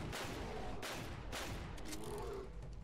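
Loud gunfire rings out at a bear in the Cabela's Dangerous Hunts 2011 hunting game, with several sharp shot bursts over a dense, rumbling wash of game noise.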